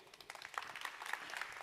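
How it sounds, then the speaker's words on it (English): A conference audience applauds after an AI and data talk, a brief, faint patter of many hands clapping at a distance. "Round of applause, please."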